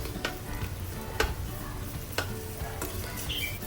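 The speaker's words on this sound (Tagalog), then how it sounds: "igigisa muna natin yung ginger ng slightly brown" Ginger sizzles gently in a little oil, with several sharp scraping and stirring clicks from a utensil against the pan over a soft, steady frying bed. No voices.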